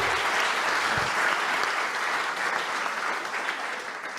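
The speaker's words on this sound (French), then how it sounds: "On peut applaudir très fort" Loud, sustained applause from an audience at a retail customer-satisfaction awards event, a dense, steady wash of clapping that fills the whole stretch and eases only slightly toward the end.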